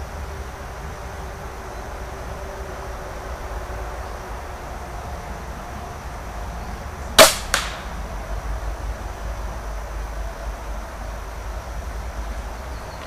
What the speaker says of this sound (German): jetzt der erste Schuss auf die Benchrestscheibe